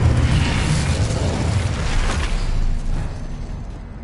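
Spell blasts in the video game Hogwarts Legacy, a loud booming explosion with a rumbling, crackling wash that swells and then slowly fades over a few seconds, no voices.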